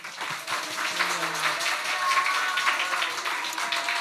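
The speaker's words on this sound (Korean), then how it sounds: "우리 할렐루야 큰 박수로 환영하겠습니다." Church congregation applauding to welcome the pastor at a revival service, a dense, steady wash of clapping that holds loud and even throughout, with faint tonal sounds underneath.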